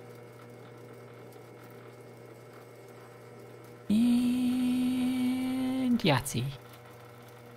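Metal lathe parting off a thin-walled workpiece to length: a low machine hum, then a loud steady cutting tone starting midway that ends in a brief squeal as the part separates, with a short spoken remark after.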